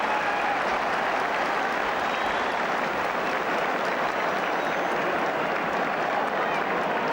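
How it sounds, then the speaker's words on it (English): Crowd at the 1980 Galway vs Limerick All-Ireland hurling final cheering and applauding at half-time, a continuous dense roar of a large stadium audience under a commentator's voice. "And listen to the crowd."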